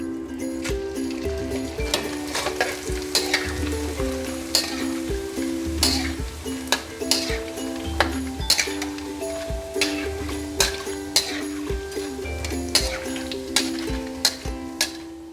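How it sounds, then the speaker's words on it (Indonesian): Emping crackers fry in hot oil in a home kitchen, a steady close sizzle broken by frequent sharp clinks and scrapes of a utensil stirring in the pan. "Panaskan minyak, kita mau goreng emping ya."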